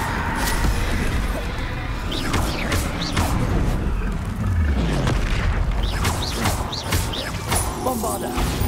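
Spell blasts from a Hogwarts Legacy fight boom and crash repeatedly, heavy impacts and bursts tumbling over one another with shouted incantations and combat noise layered throughout.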